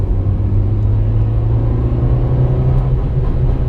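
Engine of a Honda Civic EM2, converted to a manual transmission and apparently in limp mode, droning as a loud, steady low rumble close by, holding an even pitch without climbing.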